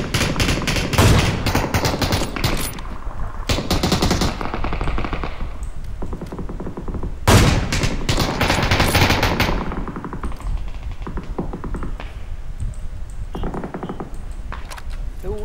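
Rapid automatic gunfire from the battle royale game PUBG in a night mode event, loud dense bursts of machine-gun fire that come in long sustained volleys with brief pauses between them.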